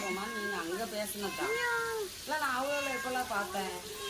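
A cat meows repeatedly in a home kitchen while fish is being fried, giving a string of drawn-out, rising and falling cries at close range over a faint sizzle in the background.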